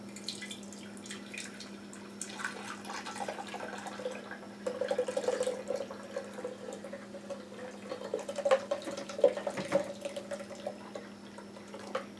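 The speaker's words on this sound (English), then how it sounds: "And now we could more carefully pour it from this guy here." Juice pours carefully from a container in a quiet, close trickle with faint drips, the flow rising and easing over several seconds against a low steady hum.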